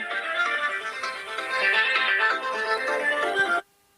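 A phone ringtone plays as a steady electronic melody for about three and a half seconds, then cuts off abruptly into silence, with no voices over it.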